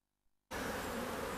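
Honey bees buzz in a dense, steady hum that starts abruptly after a short silence and stays close and continuous.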